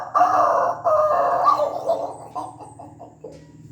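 A voice imitates a rooster crowing, close and clear, in one long drawn-out call that breaks into a stuttering, fading series of clucks.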